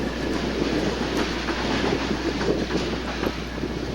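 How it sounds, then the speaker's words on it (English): Conrail light engines rolling along the rails at a steady, continuous rumble with faint clicking and wind buffeting the microphone, fairly close and loud throughout. "Could be light engines heading to the"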